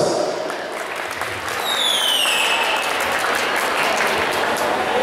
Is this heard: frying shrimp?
no